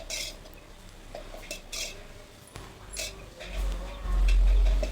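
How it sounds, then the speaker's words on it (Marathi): A spoon stirs candied tutti frutti into sugar syrup in a pan, with soft scattered clinks and scrapes and a low thump near the end. "टूटी फ्रूटी मिक्स करून घेऊया।"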